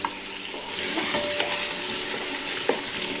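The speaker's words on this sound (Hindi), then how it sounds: "इसको नाजरीन लाइट गोल्डन कलर आने तक फ्राई करेंगे।" Chicken fries in ghee in a cooking pot, giving a steady close sizzle with light stirring scrapes and a few soft clinks, no voices.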